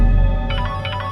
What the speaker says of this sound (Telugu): ఫోన్ రింగ్ అవుతుంది చూడవే.